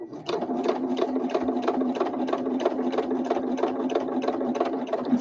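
A sewing machine runs a steady straight stitch on a vintage journal cover, its rapid even needle clatter close and continuous with no talking.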